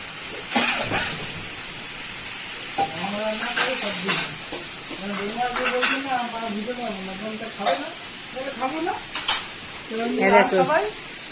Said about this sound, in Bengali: একদম পুঁইশাক বসিয়েছে মামা দেখো মামা রান্না করছে